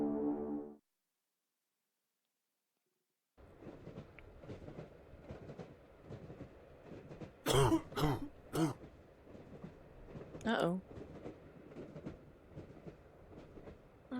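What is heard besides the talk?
train riding on rails in The Last Door video game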